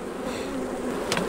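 Honey bees buzz steadily at an open hive of nine frames with little stored weight, a close, continuous drone.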